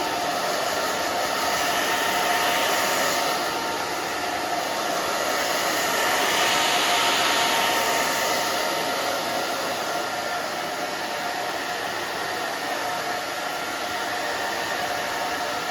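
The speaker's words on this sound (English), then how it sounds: "Okay, so just dry the back down." A hair dryer blows steadily while drying the back of short pixie-cut hair, a loud continuous whooshing roar that swells slightly as the airflow moves, close and alone with no talk.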